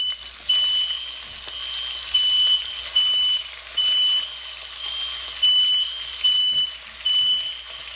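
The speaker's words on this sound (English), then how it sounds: "We set off the alarm." A kitchen alarm, set off while browning chicken for coq au vin, sounds a series of evenly spaced high beeps over a soft sizzling background, with no talking.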